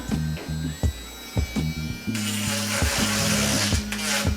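A cheap Hardell electric sander works on wooden door trim, its steady motor hum broken by short stops and restarts, then running continuously with a harsher, louder abrasive grind, close up with no talk.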